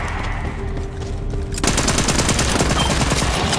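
Rapid automatic pistol fire in Borderlands 3, a dense burst of shots suddenly starting partway through and continuing loud and fast to the end, following a quieter stretch of game ambience.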